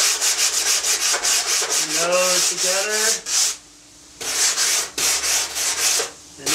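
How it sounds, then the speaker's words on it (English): A foam surfboard blank being fine sanded by hand near the nose, with repeated rhythmic rubbing strokes, a short pause, then more strokes; a voice speaks briefly over the sanding. "Pretty much done with the fine sanding."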